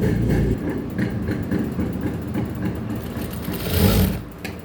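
A sewing machine runs steadily, stitching two even layers of blouse fabric in a double seam, a close continuous whirring hum that swells slightly near the end.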